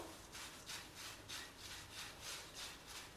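A soft, dry rasping crackle of thin poha dry roasting in a pan repeats in steady rhythmic pulses, faint and close, with no voices.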